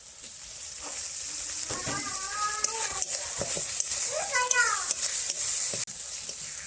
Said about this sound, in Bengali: মশলাটাকে ভালো করে কষিয়ে নেব যতক্ষণ না মশলা থেকে তেল ছাড়ছে